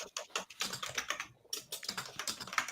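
Someone types on a mechanical keyboard in quick, irregular bursts of crisp clicking keystrokes, with a brief pause midway, close and fairly quiet, with no talking.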